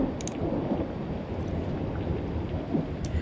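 A thunderstorm rumbles in the background with steady heavy rain, a continuous loud wash of noise and no voices over the whole stretch.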